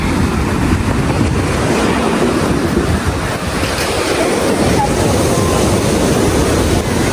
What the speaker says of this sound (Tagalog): Mostly daw dito ay surfing. Kaya maalon.